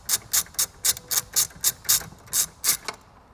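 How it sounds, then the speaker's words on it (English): A hand ratchet backs out a 10mm bolt inside the cabin of a 2022 Lexus RX, with about eleven evenly spaced crisp clicking bursts, close and clear, and no talking. "we are going to be removing this 10mm bolt right there"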